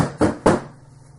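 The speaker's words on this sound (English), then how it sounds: "Somebody's knocking." Two firm knocks on a door, close and distinct, a quick double rap followed by quiet room tone, with no voices.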